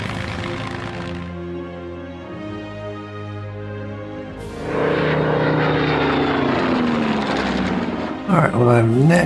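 Propeller airplane engine from the World War II strategy game Order of Battle WW2, a steady droning hum that swells louder midway, with a brief sharper burst near the end.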